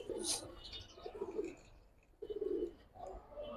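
Pigeons coo in soft, low, throaty bursts, a few repeated calls close by at a pigeon market, with a brief higher chirp at the start.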